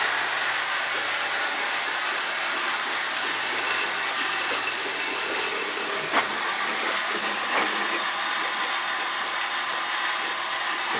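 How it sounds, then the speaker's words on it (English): An old oil boiler's circulating pump runs with air hissing and gurgling out of it, a steady broadband rush that carries through the whole stretch, with a couple of faint knocks late on and no talking. "Hear the pump from hell over there. You hear all the air coming out of it."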